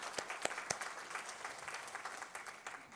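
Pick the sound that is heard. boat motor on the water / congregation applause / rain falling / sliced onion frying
congregation applause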